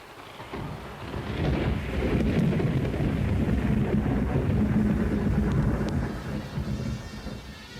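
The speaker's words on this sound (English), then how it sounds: "The children slept well while the storm raged above them." A thunderstorm with steady rain and low, rolling thunder builds to a loud, sustained roar with gusty wind and fades slightly at the end, with no voices over it.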